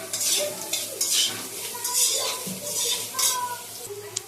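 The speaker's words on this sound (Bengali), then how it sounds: "তেলের মধ্যে পোস্তটা দিয়ে দিয়েছি। পোস্তটা এভাবে একটু ভেজে নিচ্ছি" Close-up sizzling of poppy seeds frying in oil in a pan, with rhythmic scraping strokes of a spatula stirring, several bursts of hiss rising and falling over a few seconds.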